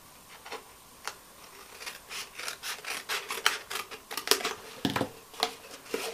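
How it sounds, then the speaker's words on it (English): Scissors snip through card while crafting a Christmas treat mug with an envelope punch board, a series of close, crisp cuts and rubbing rasps in an uneven rhythm with no talking. "So we're going to cut this away. So ladies, snip it away."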